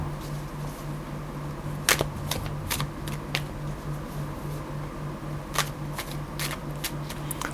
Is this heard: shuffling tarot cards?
yes